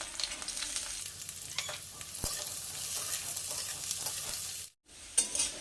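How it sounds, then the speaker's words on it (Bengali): Potatoes and carrots sizzle steadily in hot oil in a pan, with scraping stirring noises throughout and a brief pause near the end. "আলু আর গাজর ভাজা হয়ে গেছে"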